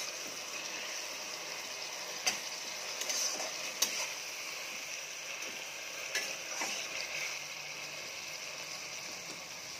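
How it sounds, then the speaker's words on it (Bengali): Ground spice paste being stirred into small kechki fish in a frying pan for a spicy charchari, giving a soft steady sizzle with occasional faint scraping clicks of the spoon, fairly quiet throughout with no talk. "এখন আমি এর মধ্যে দিয়ে দিচ্ছি মশলাগুলো, বেটে রাখা মশলাগুলো, এটা দিয়ে আরেকবার ভালো করে নেড়ে চেড়ে নেব"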